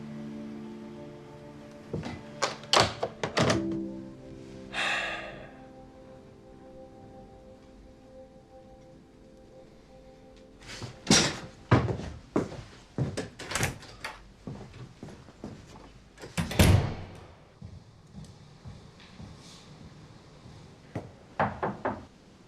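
Knocking on a door late at night in a scene from a Chinese military TV drama, arriving as several separate clusters of sharp, close raps with quiet pauses between them and no talking.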